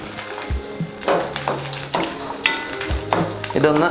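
Grated coconut and curry leaves fry in a hot pan for a Kerala raw plantain erissery, with a steady close sizzle broken by a few stirring scrapes and clanks.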